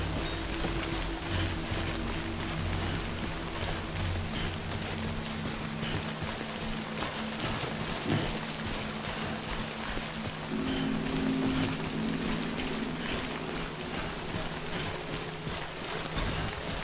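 Steady rainfall in the video game Death Stranding, a dense continuous hiss of drops with low rumbling underneath, loud and even throughout with no voices.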